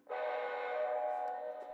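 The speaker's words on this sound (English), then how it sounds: "And we blow the whistle." A model train whistle gives one sustained steady tone for nearly two seconds, starting abruptly and ending just as suddenly, clear and moderately quiet with nothing else heard.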